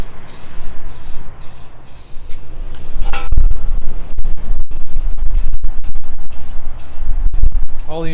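Bursts of aerosol spray paint hiss loudly and close up as the inside of a steel toolbox is coated, with short sprays and pauses before a longer run of repeated hissing bursts.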